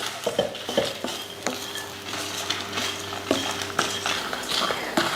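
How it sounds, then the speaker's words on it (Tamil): Whole spices such as cardamom and cinnamon with dried red chillies dry-roasting in a pan, giving light scraping stirs and scattered clinks of a utensil against metal, close and steady with no talk. "இப்போ இதை நல்லா வறுத்துடலாம்"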